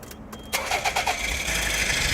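A Nissan Figaro's all-aluminium 1-litre turbo engine cranks briefly and catches, settling into a steady close, slightly rattly idle with no voices.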